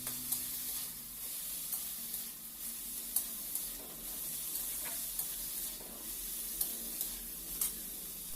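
Chopped onion frying in a pan, an even crackling sizzle broken by small spatula clicks and stirring bumps, near and alone.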